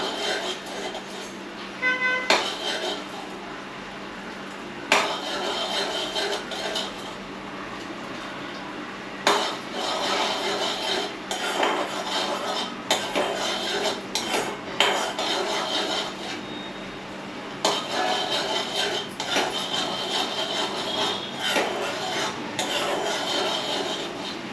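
Pulihora being stirred in a pan: repeated close scraping and rubbing strokes come in steady bursts with short pauses, and no one speaks.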